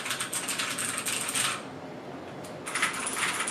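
Clicky typing on a Keychron K10 mechanical keyboard, a rapid patter of keystrokes that pauses briefly partway through and then resumes, close and fairly quiet with no talking.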